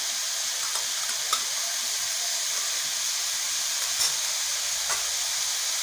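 Vegetables sizzle in a pan with a spoonful of tomato paste as they are stirred, a steady loud frying hiss with occasional soft scrapes and clicks of the spoon, close and without talk.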